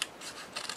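Two quick snips of scissors cutting paper, close and crisp, separated by a short pause.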